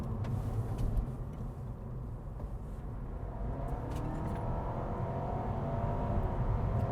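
Steady 2025 Honda Civic Hybrid hatchback engine drone in Eco mode, heard from inside the cabin, low and rumbling, with a gentle rise in pitch toward the end.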